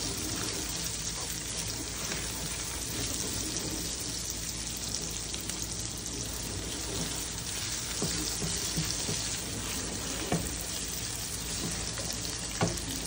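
Chicken marinated in soy sauce sautés in a pan with a little salt for a chicken cashew nut salad, giving a steady, close sizzle throughout with occasional stirring scrapes and no talking.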